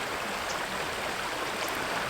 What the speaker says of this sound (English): the sound of the flowing water and the raindrops around